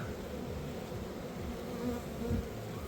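Steady, close buzzing of a newly hived honeybee swarm, a dense humming drone that holds at an even level throughout.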